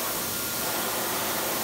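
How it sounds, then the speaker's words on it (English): An electric hand dryer runs in a supermarket restroom, giving a constant, fairly faint rushing blast of air that holds steady throughout with no speech. "It's supposed to be like a hand dryer."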